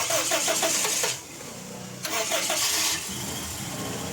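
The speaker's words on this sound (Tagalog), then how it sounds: "mapa-start na namin itong makina" Toyota Revo VX200 engine cranked twice with a starter whirring in rhythmic pulses, then catching to a steady, close idle; the idle speed is high at start and later drops.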